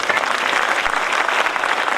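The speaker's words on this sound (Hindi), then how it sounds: "तो उनके लिए चाहेंगे एक बार जोरदार ताली।" Audience applause at a live gathering in India, a loud, dense, continuous clapping from a crowd that fills the whole stretch without a break.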